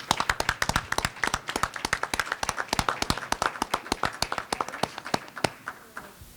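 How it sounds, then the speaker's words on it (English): A small audience at a Town of Indian Head town meeting claps after a presentation. Distinct, fairly sparse hand claps patter steadily and thin out toward the end. "Let's give them another round of applause"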